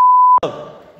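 A loud, steady censor bleep tone lasts about a third of a second and cuts off abruptly, followed by a brief burst of muffled speech.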